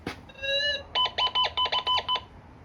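A metal detector sounds twice while searching for gold, then a rapid run of short, high beeps pulses close by. A faint rustle sits underneath.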